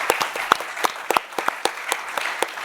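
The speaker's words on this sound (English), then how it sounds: "I think this panel deserves a round of applause." Audience applause for a panel at a water-financing conference, a run of sharp, distinct claps over a steady wash of clapping, fairly close and loud, with no talk.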